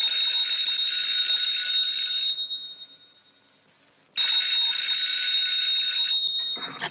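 An old electric telephone bell from a 1944 mystery film rings in two long, loud, brassy bursts of about two seconds each, separated by a short silent gap. No one speaks over the rings.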